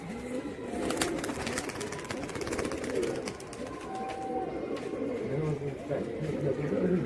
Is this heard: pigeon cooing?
yes